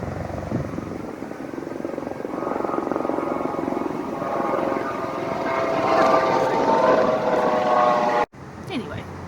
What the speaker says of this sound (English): there's a lot of airplanes that goes on every time I've been filming these lately.